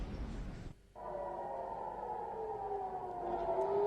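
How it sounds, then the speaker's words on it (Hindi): A wailing air raid siren sounds steadily after a brief gap, its rising and falling tone drawn out and loud against rumbling background noise during strikes in the Iran–Israel war. "सायरन की गूंजती हुई आवाजों के बीच ही"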